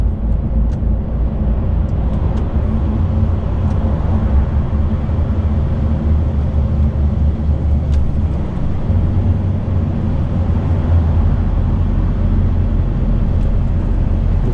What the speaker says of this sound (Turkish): Retarderi duyuyor musunuz arkadaşlar?